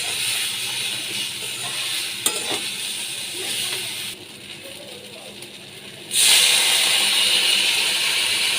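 A pan sizzles steadily, quiets for a couple of seconds, then bursts into a loud hissing surge as water hits the hot oil with fried taro stolons.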